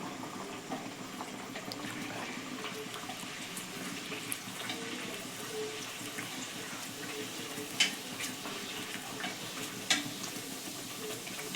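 Semolina luchi deep-frying in hot oil over a medium gas flame, giving a steady, faint bubbling sizzle with occasional small pops and no speech.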